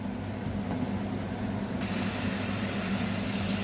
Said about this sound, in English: So both of these tuna, I'm gonna just fry them over here.